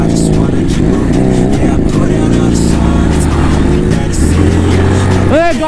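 A Benelli 300 motorcycle fitted with an Akrapovic exhaust runs loud and close, its engine holding a steady throaty drone before rising in a quick rev near the end.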